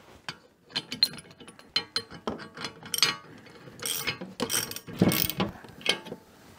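A hand ratchet turns a 1 1/16 inch deep socket to tighten a bolt while setting up a budget tube bender, giving close, sharp clicking runs in quick uneven bursts with metallic clinks between strokes.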